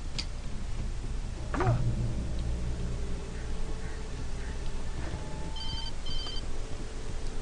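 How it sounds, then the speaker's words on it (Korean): A telephone rings in the Alan Wake video game, a short electronic ring pattern repeating twice near the end over a steady ambient game backdrop, with no talking. "전화가 왔어."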